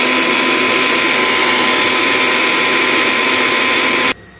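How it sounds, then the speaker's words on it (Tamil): A mixer grinder whirs at full speed, grinding banana stem with coconut, a loud steady motor drone that holds constant for about four seconds before cutting off abruptly. "தேங்காய் கூட இதை நாம் மரமரன்னு அரைச்சிக்கலாம்"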